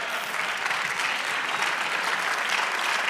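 A church congregation applauds during a sermon, a full and sustained wash of many hands clapping, even and fairly loud, without talk.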